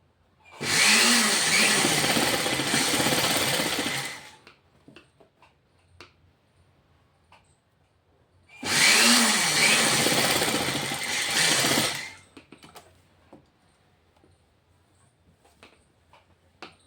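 A sewing machine runs in two sustained bursts of about three and a half seconds each, stitching a princess-cut blouse, with quiet pauses and small handling clicks between them.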